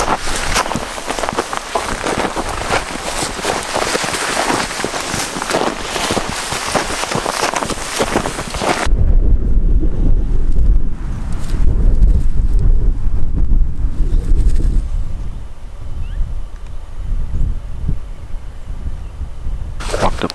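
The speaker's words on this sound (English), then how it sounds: "but so far it's just windy" Wind sweeping across a hillside during a Coues deer hunt, a loud, steady roar battering the microphone throughout, swelling into heavier low buffeting midway before settling back.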